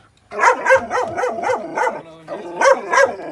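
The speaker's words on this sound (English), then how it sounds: "I got a feeling like he's a really sweet dog" A dog being worked for bite training barks in a rapid run of about six sharp barks, then goes quiet briefly with a faint whimper before a few more barks close by.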